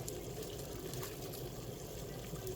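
Water streams steadily for instant noodles, a soft continuous pouring and trickling heard faintly and alone.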